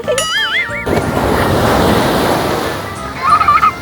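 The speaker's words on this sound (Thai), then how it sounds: "ฟังคลื่นเนี่ยเพลิน" Ocean waves wash onto a beach in Bang Saphan, Thailand, a broad rolling surf rush swelling and fading nearby, with faint whistling tones at the start and end.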